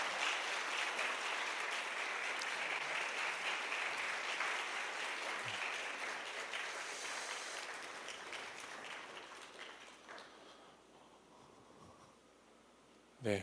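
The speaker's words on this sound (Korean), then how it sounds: "우리 다시 한번 귀한 간증해 주신 박 형제님께 감사의 박수 하겠습니다." A church youth service congregation claps in thanks, a dense but fairly quiet wash of applause that slowly fades over several seconds before a brief knock at the end.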